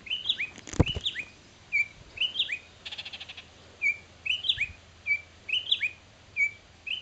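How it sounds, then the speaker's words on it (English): A baby bird chirps repeatedly in close, clear, rhythmic pairs of high peeping calls, with a brief handling thump near the start and no talking. "The little baby bird."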